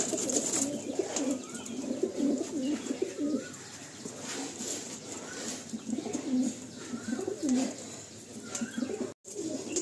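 Pigeons coo softly and repeatedly in a loft, low rolling calls recurring in a steady rhythm at moderate distance, with no talking.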